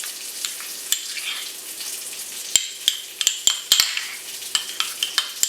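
Peach pecan preserve with chunky pecans being mixed into butter, a steady close scraping and stirring with a string of sharp spoon taps and clicks against the dish in the latter half, no voices.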